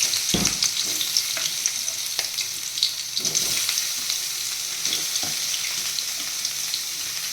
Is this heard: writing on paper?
no